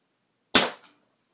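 A single sharp shot from a Flasc TM-15 paintball marker cracks close and loud out of silence, then decays quickly with a faint echo tail.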